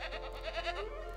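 Goats bleat in the nature tile-puzzle game Preserve: a few short, wavering bleats close together over a steady low game hum, with no talking.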